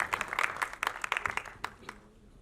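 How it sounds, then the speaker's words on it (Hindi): Audience applause at a special film screening at Carnival Cinema in Andheri: a short, sparse patter of individual claps, fairly faint, quickly dying away. "जोरदार तालियां।"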